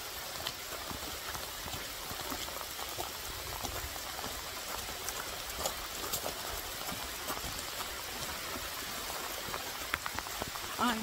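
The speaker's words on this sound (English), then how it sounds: "I'm going to stand here where I'm right in the rain now." Steady rain falls outdoors on an estate, a dense continuous patter with scattered closer drops, faint and even throughout with no talk.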